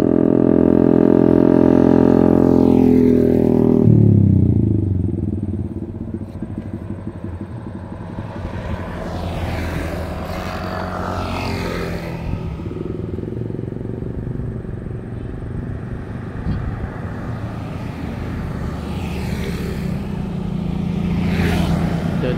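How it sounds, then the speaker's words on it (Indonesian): A loud motorcycle engine roars close by, then fades; several more Honda and Yamaha motorcycles pass along the road one after another, rising and falling. "banyak Honda motor Yamaha roda dua yang melintas lewat sini"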